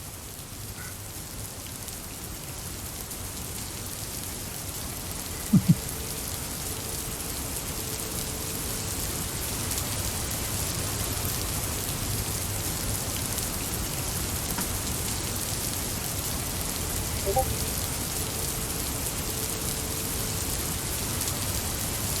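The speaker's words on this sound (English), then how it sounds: "So this is GAIA Pro adding the weather. A random rainstorm." Steady rainstorm from GAIA Pro weather for terrain in a game engine, an even hiss of rain on surfaces throughout with a couple of faint clicks, no voices.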